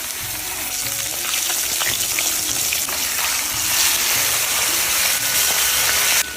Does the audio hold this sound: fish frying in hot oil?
yes